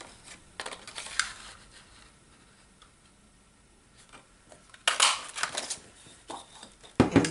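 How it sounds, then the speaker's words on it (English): Sharp clicks and snaps of a paper hole punch cutting circles from cardstock for a treat box, scattered and uneven, with a louder cluster of punches near the end; no talking. "and then we are using the 1 3/8 inch hole punch"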